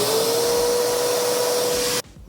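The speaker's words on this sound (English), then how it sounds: "This is my shop vac." Shop vacuum roars loudly with a steady whine and broad rushing hiss for about two seconds, then cuts off abruptly, leaving faint room noise.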